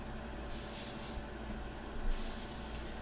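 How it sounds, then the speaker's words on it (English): An airbrush loaded with diluted India ink test-sprays onto scrap paper, giving a steady close hiss in two bursts: a short blast early on, then a longer one that runs to the end over a low background. "we are going to go ahead and just make sure the airbrush is working"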